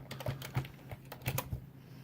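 Keys on a computer keyboard are tapped in a quick, close, uneven run of soft clicks while a password is entered.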